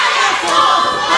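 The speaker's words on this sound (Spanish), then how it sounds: "Escuchen nada más a la gente corear a favor de Payacumba." A lucha libre arena crowd roars and chants in support of the wrestler Payacumba, a dense, loud wall of voices that keeps going steadily throughout with no break.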